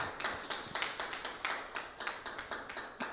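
A church congregation applauds after a sermon, with a steady patter of scattered hand claps at moderate distance and no talking.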